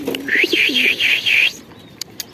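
Shahjahanpuri pigeon cooing close by, a run of about five rhythmic, rolling coos over roughly a second, then quiet with a couple of faint clicks.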